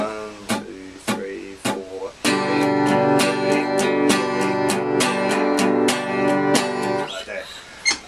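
Acoustic guitar strummed in all downstrokes, a few sparse strokes building into a steady, louder run of strums with heavier accented hits, close and clear.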